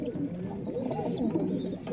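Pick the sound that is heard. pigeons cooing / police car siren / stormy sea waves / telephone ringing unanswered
pigeons cooing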